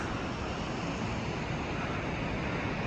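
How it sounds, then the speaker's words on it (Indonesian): A waterfall on the trail to Annapurna Base Camp in Nepal gives a constant, even roar of rushing water, moderately quiet and heard from some distance, with no voices. "Tuh air terjunnya"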